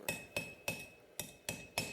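A small hammer strikes metal six times at a steady rhythm while a knife is being forged, each blow a sharp, bright ringing clink heard close up.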